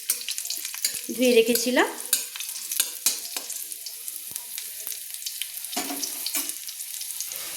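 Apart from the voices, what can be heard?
garlic cloves frying in a pan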